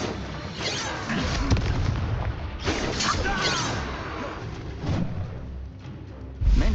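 Spell-casting effects from the Hogwarts Legacy video game: loud whooshing magical bursts and booming impacts rise and fall across the clip, layered with dense battle noise and occasional low thuds.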